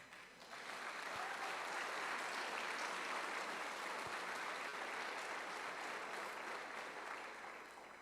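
A church congregation breaks into sustained, steady applause that swells in and holds at an even level for several seconds before tapering slightly, dense and fairly distant, with no voices over it.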